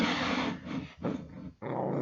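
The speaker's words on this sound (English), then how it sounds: "You're the dog. You're not supposed to be sitting on the sofa." A dog on a sofa gives a low, rumbling growl in two or three drawn-out bursts with brief gaps between them, close and fairly loud, with no talking over it.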